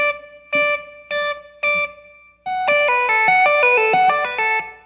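Clean electric guitar notes, close and clear: four separate plucked notes with short gaps, then a run of connected notes ringing together.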